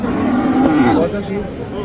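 A calf gives a short, low moo close by, with a second fainter bleat after it, over a busy background of people talking at a cattle market in Bangladesh.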